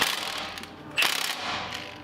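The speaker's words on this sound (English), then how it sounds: "So now I'm gonna go ahead and take this nut off" Ratchet wrench working a nut on the strut of a 2005-2014 Mustang GT, a fast run of close clicking pawl strokes with a louder burst midway, heard alone.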